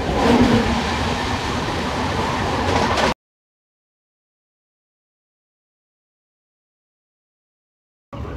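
Superfast express train hauled by a WAP-7 electric locomotive, heard as a loud, steady rumble of running wheels and rail noise for about three seconds before cutting out, with a brief return at the very end.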